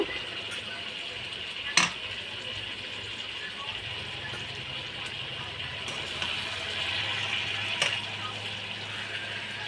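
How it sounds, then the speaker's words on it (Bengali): Fried potatoes and eggplant are stirred with a fish head in a pan, giving a soft continuous sizzle with a few sharp utensil knocks against the pan. "ভেজে রাখা আলু আর বেগুনটাকে দিয়ে দেবো দিয়ে ভালো করে নাড়াচাড়া করে নেবো"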